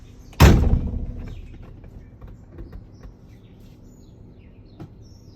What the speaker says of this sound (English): Make sure you always close the door.